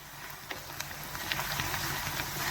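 Chopped onions frying in hot oil for a Bengali mutton liver kosha, a soft, steady crackling sizzle with scattered small pops, fairly quiet and uninterrupted.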